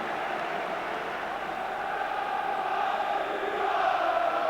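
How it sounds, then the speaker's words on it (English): Noisy partisan football crowd at an Arsenal home local derby against Queens Park Rangers, 1990/91 season, a steady, dense roar of massed voices that swells slightly louder toward the end. "a noisy partisan crowd here tonight for this local derby"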